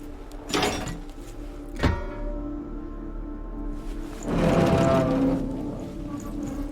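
A heavy door grinds open in Hellblade: Senua's Sacrifice, with low scraping groans in two bursts, a short thud between them and a longer rumbling drag near the end, loud and close with no talk.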